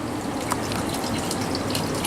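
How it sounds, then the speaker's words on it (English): A pump circulates vinegar through the heat exchanger of a Rinnai tankless water heater, producing a steady close rush of flowing, bubbling liquid with faint drips over a constant hum. "Then we plug in the pump. You can see it's starting to bubble."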